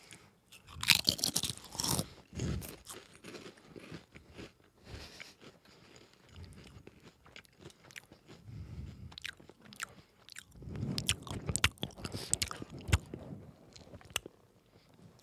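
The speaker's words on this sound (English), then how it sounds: "And I want you to get the crunch in the microphone." Smith's barbecue potato chips crunched and chewed close to a microphone, a series of crisp, loud bites and chewing crunches with brief pauses between, no talking.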